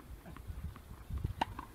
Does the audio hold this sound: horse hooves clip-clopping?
yes